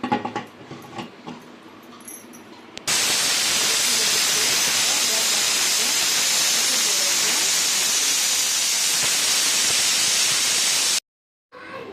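Pressure cooker cooking half-boiled rice biryani lets off a loud, continuous hiss of escaping steam that starts abruptly, holds steady for about eight seconds, then cuts off, with quieter kitchen sounds before it.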